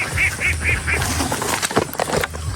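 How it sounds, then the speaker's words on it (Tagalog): Domestic ducks kept for egg laying quack in a rhythmic series of four nasal calls, fairly close, over a busy outdoor flock murmur and rustle. "Tingnan nyo po kung saan yung mga itik natin ngayon."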